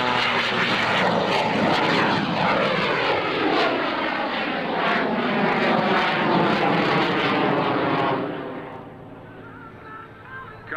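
An aerobatic airshow plane roars loudly as its engine throttles up, a sustained propeller drone that holds strong, then drops away as the aircraft passes.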